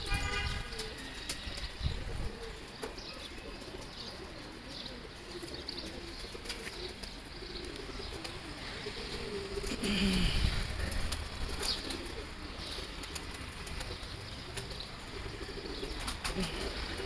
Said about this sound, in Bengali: এরা আমার কবুতরগুলো দেখেন, বাস ঘর থেকে বের হয়ে পাগল হয়ে গেছে খাওয়ার জন্য